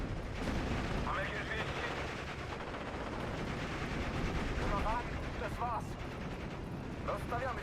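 Machine gun fire in the WWII strategy game Steel Division: Normandy 44 on the Omaha map, steady rattling bursts and distant battle noise running under continuous talk.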